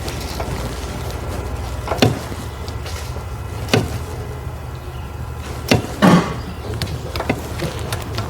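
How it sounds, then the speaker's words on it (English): A torque wrench gives a few sharp, isolated clicks over a steady low mechanical hum, spaced irregularly a second or two apart, close by, while working on a Saturn Sky engine. "I hope you can hear the torque wrench click"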